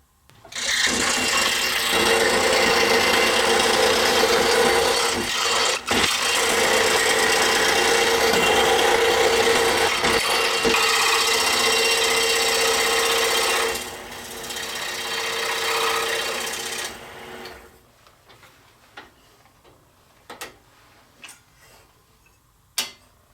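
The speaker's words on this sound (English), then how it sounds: "we're going to head over to the scroll saw and carefully cut this out" A scroll saw cuts a small piece of wood with a dense, rapid reciprocating buzz that stays loud and steady for about fourteen seconds, drops to a lighter hum, then stops, leaving scattered knocks and handling sounds.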